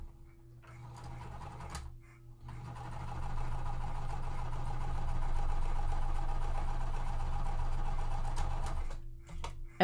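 A sewing machine stitches quilt pieces with a 1/4 inch seam allowance, running in one steady, rapid mechanical whir for several seconds. Short quiet pauses come before and after the run.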